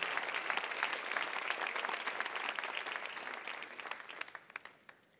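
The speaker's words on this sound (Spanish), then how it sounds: "Démosle un fuerte aplauso al Señor" Congregation in a church applauding, a dense wash of many hands clapping that stays full and steady before thinning out and tapering off into scattered claps near the end.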